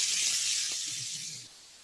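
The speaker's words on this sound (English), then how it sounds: "so that you hear that sizzle. Can you hear that sizzle?" Food sizzling in a hot pan during a French bistro cooking class, a bright steady hiss for under two seconds that fades toward the end.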